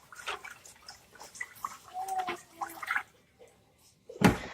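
White rice being rinsed in water in a home kitchen, with irregular splashing and swishing, trickling drips and a sharper pour or splash near the end.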